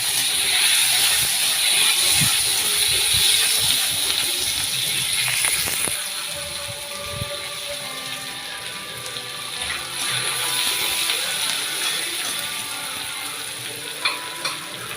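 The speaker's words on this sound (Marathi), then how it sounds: "आता कांदा घालून आपण ते लालसर होईपर्यंत भाजून घेऊया।" Sliced onions frying together with already-fried bitter gourd in a pan, a steady loud sizzle with occasional stirring scrapes, continuous for the whole stretch.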